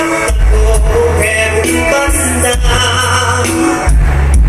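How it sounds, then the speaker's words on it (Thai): Deep, booming bass pulses from an outdoor PA loudspeaker cabinet, steady and loud with a rhythmic throb, heavy low end filling the space. "นี่คือเสียงเบส"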